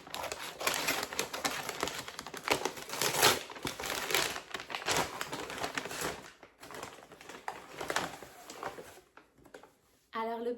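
Crinkling plastic and rustling packaging as a parcel of H&M Home decoration items is unwrapped, dense irregular crackles and tearing close by, with a voice speaking now and then.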